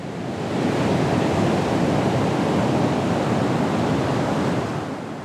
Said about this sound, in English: I hear the waves